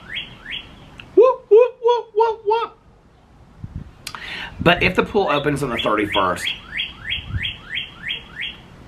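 Close, loud bird chirps repeating in quick rhythmic bursts, with a person speaking briefly in the middle before the tweeting resumes steadily.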